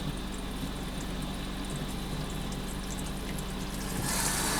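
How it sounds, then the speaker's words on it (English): A toilet in an Airstream RV flushing and refilling the bowl with water, a steady, close rushing and gurgling that swells slightly louder near the end, with no voices. "And I'm going to let the water come up about 3/4 of the way within the toilet itself."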